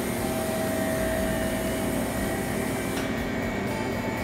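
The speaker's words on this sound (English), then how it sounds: "So now the machine starts working." A 110 V electrical freezer machine for separating broken glass from phone screen frames runs with a steady, loud, continuous mechanical hum and whir, unchanging throughout.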